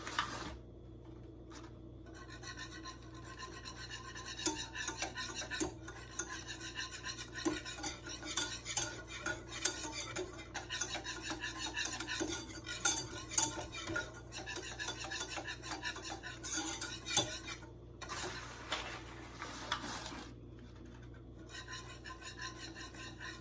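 A whisk scrapes and rasps continuously against a pot as flour is worked into lasagna sauce, a close, busy rhythmic rubbing with occasional metallic clinks and brief pauses.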